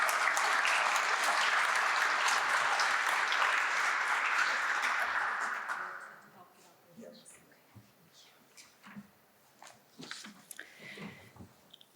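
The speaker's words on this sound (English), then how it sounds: "So please give Kara a round of applause too" A crowd applauds steadily for about six seconds, then the clapping fades out into scattered small noises and room sounds.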